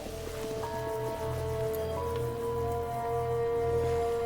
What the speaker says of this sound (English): The rain is gonna slowly damage everything around here.